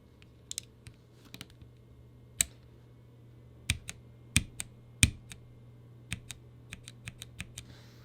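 Single keys on a Womier K66 mechanical keyboard with linear Gateron Red switches are pressed and bottomed out one at a time, sharp isolated clacks spaced irregularly in an otherwise quiet room.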